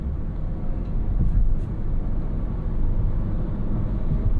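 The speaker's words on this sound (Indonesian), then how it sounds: "Tetapi dia ya bunyinya cuma suara ngeden aja gitu." Inside a 2015 Honda HR-V S with a CVT, the engine gives a steady low drone while accelerating, a continuous rumbling hum with road noise and no gear-shift breaks.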